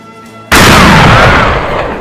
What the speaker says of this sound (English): they fire a high-velocity black powder round known as a Hollywood blank